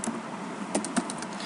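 Typing on a computer keyboard, a short run of soft, quiet key taps with a couple of slightly sharper strokes, close and alone with no voices.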